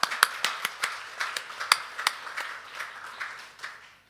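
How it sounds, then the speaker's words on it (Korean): Church congregation clapping hands together during a Sunday worship service, sparse and uneven claps at moderate distance rather than full sustained applause, with no talking over it. "우리 같이 서로 박수합시다."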